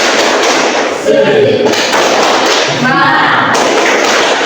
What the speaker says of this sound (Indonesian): Kita buat tepuk semangat untuk kita bersama.